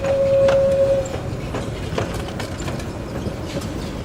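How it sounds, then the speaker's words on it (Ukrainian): A tram rolls along city streets, its rail clatter steady and moderately close, with a brief tonal squeal or horn at the start and no voices. "А вулицями вже навіть їздить патріотичний трамвай."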